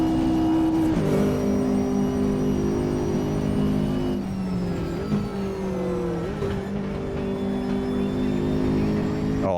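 Race car engine in a Watkins Glen racing game, a loud continuous roar with pitch drops at gear changes as the car brakes hard and sheds speed, then climbs again, with no talking.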